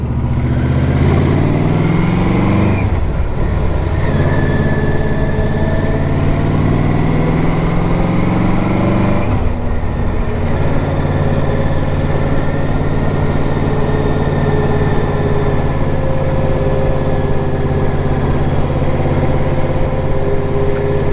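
A 2006 Yamaha Royal Star Deluxe motorcycle on a test ride, its big engine droning loud and steady with rising and falling pitch as it shifts and accelerates, mixed with wind rush.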